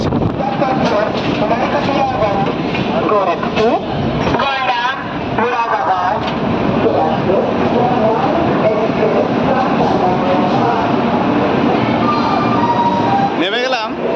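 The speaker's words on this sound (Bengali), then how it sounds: "ট্রেন এখন ঢুকছে সমস্তিপুর" The 15550 Intercity Express rolls into Samastipur station, heard from on board as a continuous loud rumble of carriages with rattling and wind, while people talk in the background throughout.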